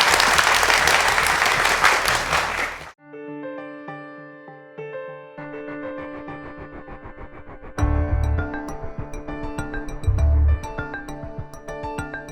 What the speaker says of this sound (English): So please give them a big applause